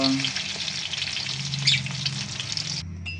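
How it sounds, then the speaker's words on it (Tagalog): Saba bananas frying in hot oil, a steady loud sizzle with occasional stirring scrapes, cutting off abruptly near the end. "ipiprito ko po muna ang saging. Yan. Ipiprito lang po muna natin ito."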